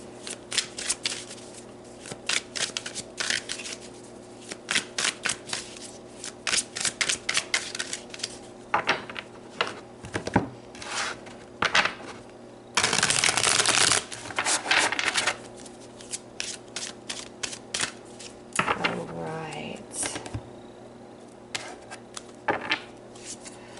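Tarot cards are shuffled and drawn for a reading, with crisp riffling flutters and papery snaps recurring in quick bursts and a longer, louder shuffle midway, close and clear with no talking.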